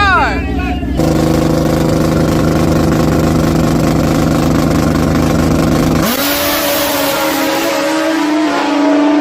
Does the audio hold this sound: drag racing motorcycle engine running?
yes